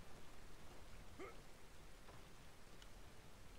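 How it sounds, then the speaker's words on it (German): Rain falling in the video game Dynasty Warriors 9, a steady, even hiss of downpour that holds constant throughout, with no voices over it. "Ihr seht, es regnet immer noch."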